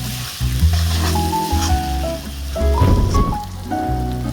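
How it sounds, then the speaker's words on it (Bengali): Browned onions fry in a pan while being stirred continuously, a loud steady sizzle broken by scraping spatula strokes, with no talking. "পেঁয়াজটা বাদামি কালার হয়ে গিয়েছে এখন এটাকে অনবরত নাড়াচাড়া করতে হবে যাতে করে আবার পুরোপুরি লেগে না যায় এবং না পুড়ে না যায় পেঁয়াজগুলো"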